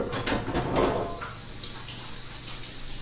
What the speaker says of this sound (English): rinse my chocolatey hand off